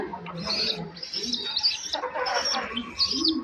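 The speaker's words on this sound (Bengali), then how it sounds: "এখানে আছে আমার দুটা সিরাজ কবুতরের বাচ্চা একটা চুল্লি আর দুটা হচ্ছে দেশি কবুতরের বাচ্চা" Young Siraji and local pigeon chicks call in a continuous chorus of high, squeaky chirps and cheeps, fairly close and steady throughout, with no talking.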